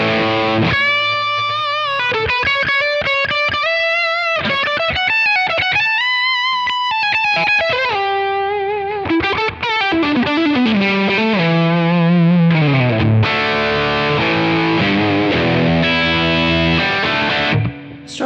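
Electric guitar through a J.Rocket Melody overdrive pedal with its top end turned down, playing a loud, sustained melodic line of bending lead notes and chords, thick and saturated, with no talking.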